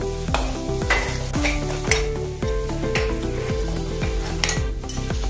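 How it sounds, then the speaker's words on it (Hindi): Coriander powder masala for wedding-style dum aloo is roasted with brisk, repeated spoon scrapes and a constant sizzle, under loud background music. "दो चम्मच धनिया पाउडर, अच्छे से भून लेंगे इसको मसाले को अपने"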